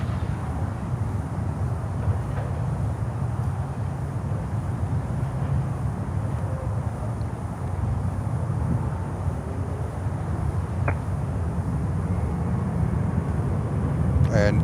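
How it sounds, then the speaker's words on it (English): A Qatar Airways Airbus A350-1000 airliner inbound from Doha at Miami airport, heard as a continuous low jet engine roar, steady and fairly loud throughout, with a brief faint click near the end. "Qatar 350 1000 from Doha."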